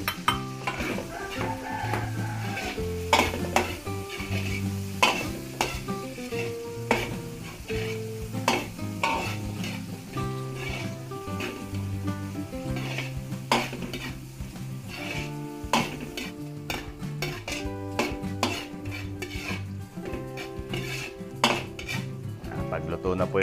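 Onion and chorizo sautéing with garlic in a pan for Filipino home cooking, a continuous sizzle with frequent spatula clinks and stirring scrapes against the pan, mixed with background music throughout.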